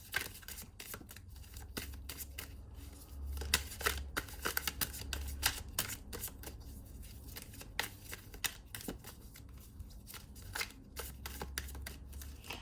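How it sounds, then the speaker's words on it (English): Close, quiet tarot card shuffling: repeated crisp riffles and soft slaps of cards in an irregular rhythm, with faint low handling noise between. "Let's continue shuffling."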